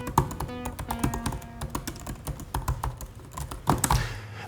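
Typing on a MacBook Pro 16-inch keyboard, a close series of soft, irregular key clicks and taps, with a faint tonal hum underneath.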